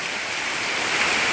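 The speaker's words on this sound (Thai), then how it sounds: "บรรยากาศฝนตกที ่สัตหีบชลบุรีฮะ ลมแรงใช้ได้เลย" Steady rain falls in strong wind beside a canal in Sattahip, Chonburi, a dense even hiss of water with no voices over it.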